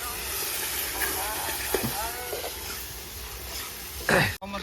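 Oil sizzles and hisses steadily as onions fry, with faint voices talking in the background.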